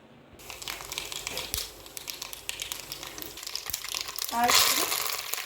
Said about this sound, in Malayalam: വെളിച്ചെണ്ണയിൽ നമ്മൾ കടുകും കറിവേപ്പിലയും വറുത്തിട്ട് കൊടുത്താൽ